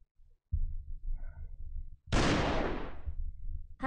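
A gunshot in a werewolf game: one loud, sharp blast with a long decaying tail, after a short low thump and rumble, and a second hit starting right at the end.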